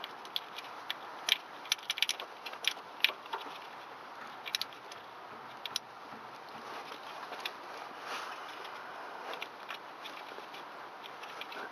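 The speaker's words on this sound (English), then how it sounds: "The next stage, put the screws back in the coil packs." Screws going back into the coil packs of a Toyota Alphard 2.4 engine during spark plug replacement, heard as scattered sharp metallic ticks and clicks in irregular bursts over a faint background hiss.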